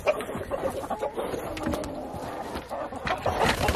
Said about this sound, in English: You see that rooster?